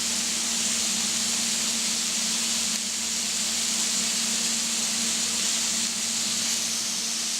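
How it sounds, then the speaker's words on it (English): A batch of mushrooms fries in a pan with a steady, close, continuous sizzle and a faint low hum underneath, without any talking. "while the last batch of mushrooms are frying"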